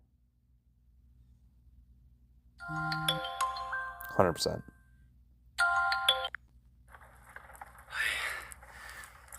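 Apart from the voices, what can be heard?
phone ringtone ringing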